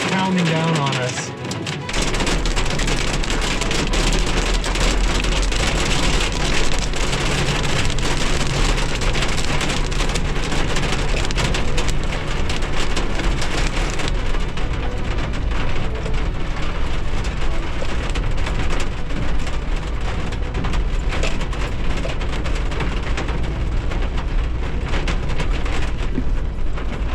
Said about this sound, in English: The hail is getting worse, so I'm going to try and drive towards the tree cover